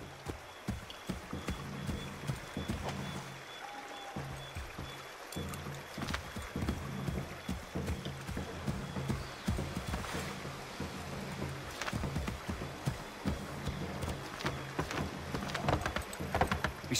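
Horse hooves clip-clop at a steady galloping rhythm in Assassin's Creed, moderately close under a busy outdoor game soundscape with scattered ambient noises.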